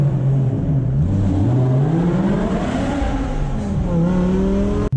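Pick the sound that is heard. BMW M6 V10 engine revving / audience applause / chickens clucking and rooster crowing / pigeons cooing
BMW M6 V10 engine revving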